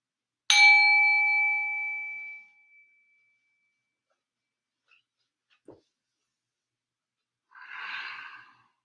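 A meditation bell in a calm morning yoga session is struck once, ringing clearly and fading over about two seconds into near silence, followed later by a soft breath.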